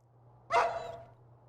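A single sharp dog bark in the video game Rule of Rose, fairly close and loud, over a low steady hum.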